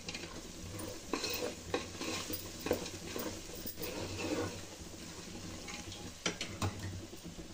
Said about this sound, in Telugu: ఇప్పుడు హాఫ్ నిమ్మకాయని యాడ్ చేసుకోవాలండి. ఇది కూడా ఒకసారి బాగా కలుపుకోవాలండి.